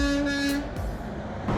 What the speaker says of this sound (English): I got a honk.